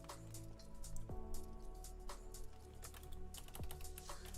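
Someone types quickly on a computer keyboard, a faint, steady patter of soft key clicks with no voices.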